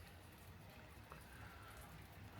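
Steady rain falls outdoors on a morning walk, a soft, even wash of drops hissing continuously at low level with no voices over it.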